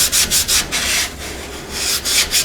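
A sanding block works over the body of an MGA car in quick, close, rhythmic rubbing strokes, a dry scratchy hiss rising and falling with each pass, with no voices.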